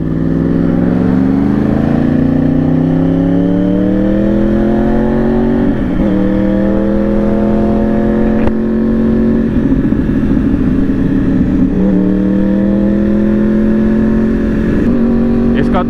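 A Yamaha R1 superbike engine runs on its own with a stuck throttle, holding a loud, steady high idle with slight pitch wavering, close by, and talk heard over it.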